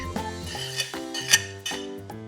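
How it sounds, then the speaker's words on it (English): A utensil scraping and clinking against a pan while mushrooms are mixed with chicken souvlaki, several distinct metallic taps and clanks in quick irregular succession, close up. "Mix everything together."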